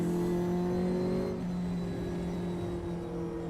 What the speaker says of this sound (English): The worst sound of the new cars